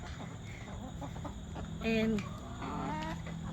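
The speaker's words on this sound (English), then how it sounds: "Look at these chickens." Chickens cluck and call nearby while pecking at greens dropped by a gate, with a few louder drawn-out squawks standing out over steady farmyard murmur.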